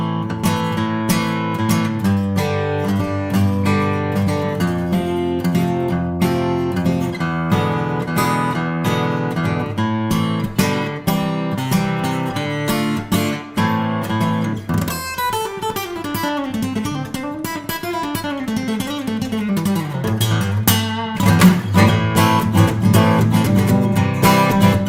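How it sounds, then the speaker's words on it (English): An acoustic guitar in an untreated room, fingerpicked and strummed alone in a continuous passage of ringing chords and moving melodic lines, with lively room reflections and no voices. "so you get a sense of what an acoustic guitar sounds like in an untreated room"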